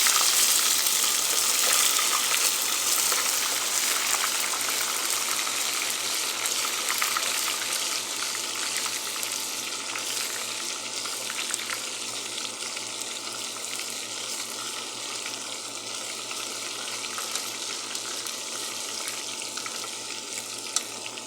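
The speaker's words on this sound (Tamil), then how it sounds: "போட்டாச்சு லேசாக கிண்டு விடலாம்" Fish curry (meen kuzhambu) with ginger and garlic sizzles and fries steadily in a pan while it is stirred, a continuous close, bright hiss holding at a fairly even level throughout with no talking.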